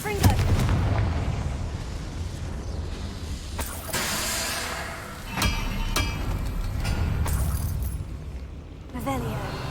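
Confringo blasting spell explosions in Hogwarts Legacy, repeated sharp bursts and hissing blasts amid busy combat noise, loud and close, with voices talking over parts of it.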